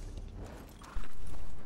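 Rapid galloping hoofbeats of a horse in The Elder Scrolls Online, loud and close, over a rumbling background with no talking.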